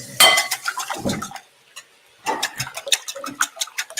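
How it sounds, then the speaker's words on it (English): A whisk beats a mixture seasoned with salt and pepper in a bowl, giving quick rhythmic metallic clinks and taps in two bursts separated by a short pause, close and fairly crisp. "We're going to whisk this up."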